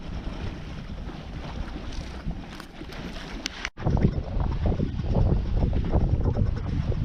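A sailboat under way in good wind, making about four knots past a lighthouse on the Swedish coast, with steady broadband wind and water rush across the hull, buffeting gusts against the microphone and a brief dropout partway through.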